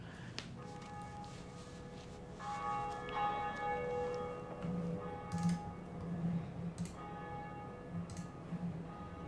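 In the Dark Souls Remastered video game, the Bell of Awakening at the top of the Undead Parish rings with repeated resonant tolls over a faint ambient game background, with no talking.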